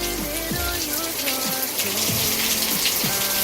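Steady rain falls across the Serbian countryside, a dense continuous hiss of drops with no breaks, joined by a faint lower tonal layer running underneath.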